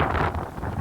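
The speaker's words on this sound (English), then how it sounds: "Yeah, it's really windy as well." Strong wind buffets the microphone near a roller coaster construction site, a loud continuous rushing roar with no voices.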